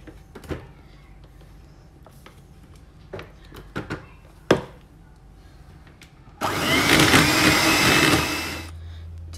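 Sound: beating butter and egg for cookie dough

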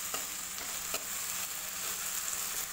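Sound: onions frying in a pan for masala poha

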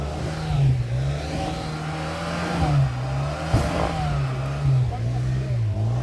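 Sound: car engine revving while trying to drive out

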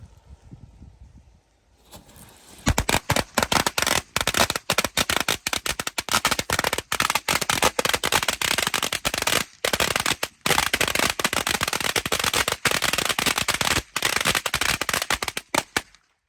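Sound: firecrackers exploding

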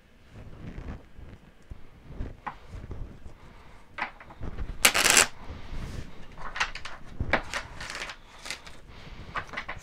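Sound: shuffling tarot cards

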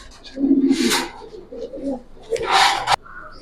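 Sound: Giribaz pigeons cooing

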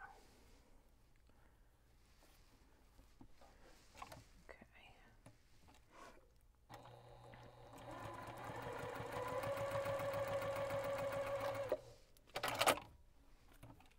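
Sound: sewing machine stitching fabric strip

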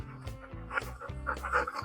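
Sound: dog panting

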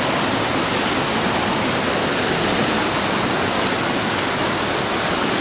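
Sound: rushing turbulent river current

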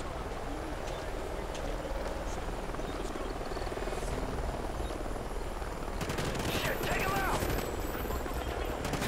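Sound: helicopter in the video game Call of Duty Ghosts

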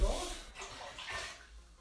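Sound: water being poured into a cooking pot

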